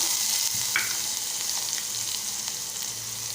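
Chopped onion frying in oil with a pinch of asafoetida in a pan, a steady bright sizzle with a few soft stirring knocks, close and continuous throughout.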